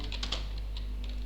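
Quick taps on a computer keyboard form a short burst of a few close keystrokes over a steady low electrical hum.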